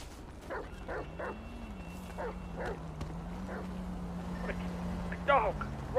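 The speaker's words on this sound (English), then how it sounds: "A dog." Several barks and yips from a dog in GTA come in short bursts, some with a whiny edge, with people talking over them and a steady low engine hum underneath.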